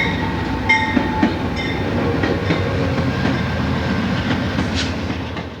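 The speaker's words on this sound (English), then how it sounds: "the train continues on its way" A westbound Santa Fe train with FP45 diesels rolls steadily along the rails near Fort Madison and the Mississippi River crossing, a continuous close rumble of wheels and cars with a few sharp clicks and squeals over the track.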